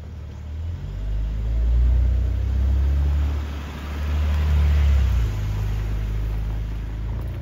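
A 4WD-swapped BMW M140i drives past with a deep, steady engine rumble that swells twice as the car moves, heard alone over faint road noise.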